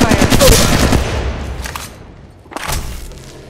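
Gunfire in the Apex Legends Mobile video game, a rapid burst of automatic shots at the start that fades, then a second short burst near the end, loud and close.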